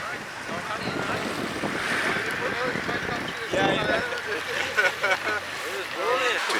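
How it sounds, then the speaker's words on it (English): A motorboat engine drones steadily while crossing the water off Zanzibar toward Prison Island, mixed with strong wind buffeting, splashing waves and voices. "hopefully you can hear me over the boat engine"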